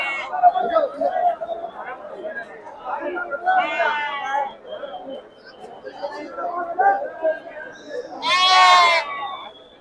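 Sheep and lambs at the Sira sheep market, with several loud bleats rising through steady chatter as traders talk and bargain nearby.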